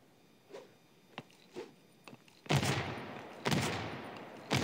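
Gunshots in the mobile shooter Standoff 2: a few faint clicks and soft thuds, then three loud, close bursts of fire, each with a short tail.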